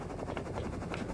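Helicopter from the Rust video game at the Dome monument, a steady continuous rotor drone with broadband whir, fairly loud and unbroken throughout, with no talk over it.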